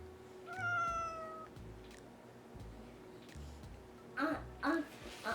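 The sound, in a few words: cat meowing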